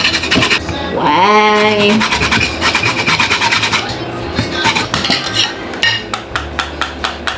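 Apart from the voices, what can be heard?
grating ingredient for Jamaican fruit cake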